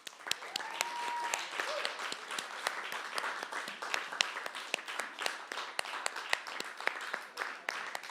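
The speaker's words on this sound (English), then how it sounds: "So can we have a round of applause for a lady?" A modest audience at a Halloween open mic night applauds, sparse individual claps ringing out fairly close and steady throughout, with a brief whoop early on.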